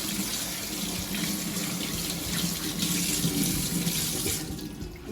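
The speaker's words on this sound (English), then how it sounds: "Just put some cold water in it to stop it from cooking." Cold tap water streams steadily onto freshly cooked spinach pasta in a blender jar, a continuous close splashing rush with no talking.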